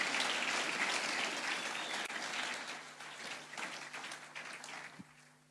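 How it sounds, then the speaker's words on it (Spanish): Applause from a church congregation at an evening revival service, a broad steady clatter of many hands that gradually thins and fades toward the end, heard alone without voices. "Si va a aplaudir, hágalo con fuerza,"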